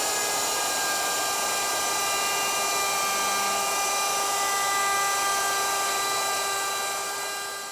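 Router cutting a dado in wood, a loud continuous high-pitched whine with a steady rushing cut that holds throughout and fades slightly at the end.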